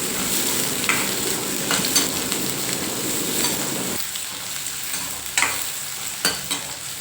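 Shallots and chillies sauté in a pan for a Tamil crab dish, giving a steady, close sizzle with the scrape of stirring. Frying noise fills the clip with no talk, and the low crackle thins slightly partway through.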